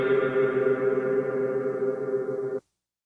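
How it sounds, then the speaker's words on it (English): A sustained wash of big reverb from a Canyon guitar pedal rings loud and steady, then cuts off abruptly, leaving silence. "the big reverb"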